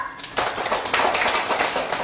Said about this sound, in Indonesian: ya tepuk tangan untuk Akbar